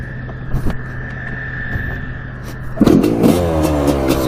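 A Yamaha YZ250 two-stroke dirt bike engine idles steadily outdoors with some wind, then revs up sharply near the end into a loud, rising engine note.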